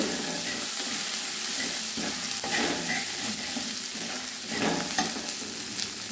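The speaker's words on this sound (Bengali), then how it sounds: "আদাটা একটু ভেজে নেব।" Grated ginger sizzles steadily in leftover fish-frying oil for a Bengali pabda fish curry, a close, continuous frying hiss with occasional stirring scrapes and no talk.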